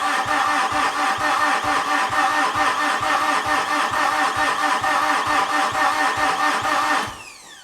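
A Fuso 4P10 diesel engine with a no-start fault cranks over to build fuel pressure. The starter churns in a steady, even pulsing rhythm for about seven seconds, then cuts off abruptly.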